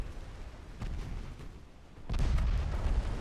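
Torpedo hits bursting against a warship in a naval strategy game, a muffled boom breaking in partway through and swelling into a loud, sustained rumble after fainter distant thuds.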